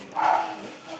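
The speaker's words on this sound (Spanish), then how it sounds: "hay un perro ahí que está ladrando" A dog barks once or twice somewhere nearby, a short muffled burst heard behind someone speaking Spanish, with low background hiss throughout.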